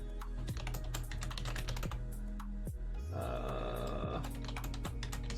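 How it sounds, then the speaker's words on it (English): A computer keyboard clicks steadily at close range as a password is typed, with a brief low groan-like sound partway through. "Assuming that I'm typing the right password."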